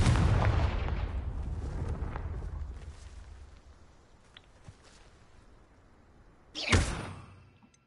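A Confringo spell explosion in the Hogwarts Legacy video game, with a loud blast that fades into a rumbling tail and then a sharp second burst near the end, standing alone without talk.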